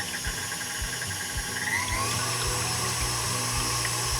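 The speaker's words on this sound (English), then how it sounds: "Whisk on medium speed." An electric whisk beats egg whites on medium speed in a bowl, a steady whirring buzz with faint rhythmic ticking, close and continuous with no voices.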